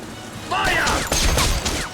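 Gunfire in The Saboteur video game: a quick string of loud shots and impacts breaking out after a quieter opening, with shouting voices mixed into the combat.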